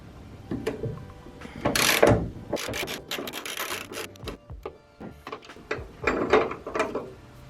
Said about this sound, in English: So for this, I just need a 10mm socket.